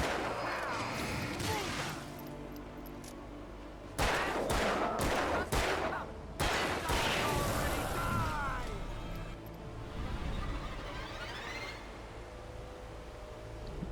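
Bursts of video game gunfire from Alan Wake: a fusillade of sharp shots clustered in the middle, mixed with crashes and a steady game soundscape, while a person talks over it.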